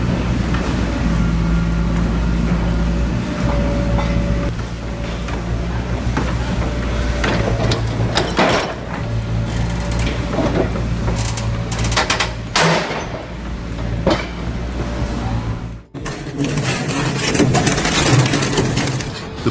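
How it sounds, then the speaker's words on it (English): An industrial shear shredder crushes a motorbike and its engine, producing a loud continuous mechanical grinding roar with heavy low rumble, irregular metallic cracks and crunches, and a brief drop near the end before the churning resumes. "The bike and engine clearly lost today's battle against the shredder."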